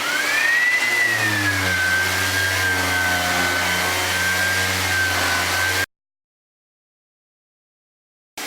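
Workshop extract fan switched on, a loud steady drone with a rising then settling whine, running continuously before cutting off abruptly, followed by silence.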